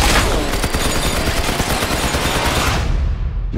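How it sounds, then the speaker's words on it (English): Rapid bursts of gunfire from an action film trailer rattle out densely and loudly for several seconds before cutting off. "Nice shooting, Sheriff."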